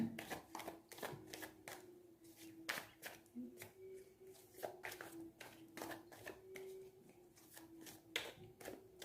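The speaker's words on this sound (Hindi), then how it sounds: "तो गाइस मैं शफलिंग स्टार्ट कर रही हूँ" Tarot cards being shuffled by hand, quiet close-up riffles and slaps in irregular quick bursts, with a faint low hum underneath.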